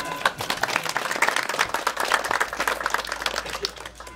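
Dense applause from an audience at an art exhibition opening in Garbatka-Letnisko, greeting a participating artist; steady clapping rolls on throughout, close and fairly loud, with a little talk mixed in.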